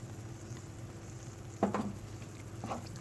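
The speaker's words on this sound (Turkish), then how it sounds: "Ve malzemelerimizi karıştırıyoruz." Sautéed eggplant sizzles in olive oil in a pan, a steady close frying hiss broken by a couple of scraping stirs of a utensil.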